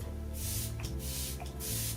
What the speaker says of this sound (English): I love the spray on this. It's like the real gentle spray